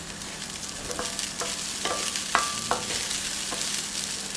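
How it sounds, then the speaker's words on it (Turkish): Freekeh and meat sizzle as they roast in a pan, a steady close frying hiss broken by several light stirring clinks and scrapes. "Şimdi bunu iyice kavuracağım önce."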